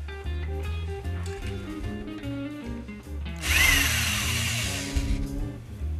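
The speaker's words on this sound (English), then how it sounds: "let's just give it an experimental stir first to see where we're at with the carbon dioxide" A drill-mounted degassing whip stirring wine in a glass carboy: a loud whirring motor whine starts partway through and runs steadily, with sloshing liquid churning under it and some faint background music or hum before it.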